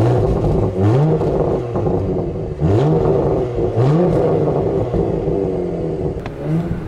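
Porsche Macan GTS engine revved several times while parked, each blip rising sharply in pitch then falling back to idle, close and loud, with roughly four distinct revs spread across the stretch.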